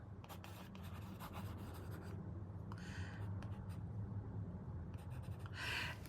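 A stylus scratches across the textured surface of a reMarkable Paper Pro e-ink tablet in papery strokes of varying length, close and fairly quiet, with brief pauses between bursts of writing.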